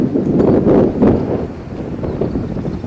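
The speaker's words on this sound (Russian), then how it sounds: "Ветер такой, что сдувает практически" Strong wind buffets the microphone in loud, rumbling gusts that rise and fall without pause, outdoors in Bulgaria.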